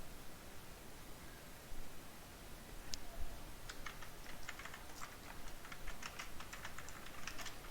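Someone types code on a computer keyboard, with quiet, irregular key clicks that start sparse and become a faster patter against a faint background hiss.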